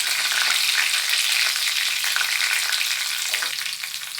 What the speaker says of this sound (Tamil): 3 பல் பூண்டை பார்த்திங்கன்னா தட்டி வச்சுருக்கேன், இதோடு சேர்த்துக்கிறேன். கொஞ்சமாக கருவேப்பிலை, 2 வரமிளகாவை கிள்ளி சேர்த்துக்கிறேன்.